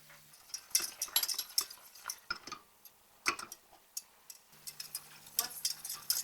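A spoon stirs milk and roux for a bechamel sauce in a pan, making quiet, irregular scraping and clinking taps against the metal, close and alone.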